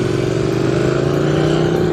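A motorcycle engine drones steadily while being ridden, a loud close low rumble with an even pulsing tone throughout.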